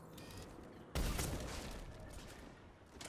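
A single loud sniper rifle shot with a long scope, fired for a headshot in Mass Effect 3 multiplayer, cracks sharply and rolls off into a sustained echo over quiet game ambience.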